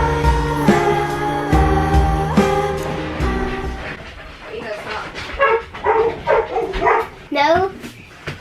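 A Husky at bath time gives loud, close barks and yips, then whimpering, yelping cries, mixed with people talking throughout.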